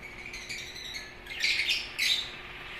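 A parblue opaline dun fallow pet bird gives a few harsh, close squawks and chirps over faint steady background hum, with no talking.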